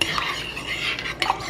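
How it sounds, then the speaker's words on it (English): A spoon stirs a vegan mixture with sea moss in a pot, its close scraping and clinking strokes against the metal repeating over a faint sizzle with no talking. "Stir that up well."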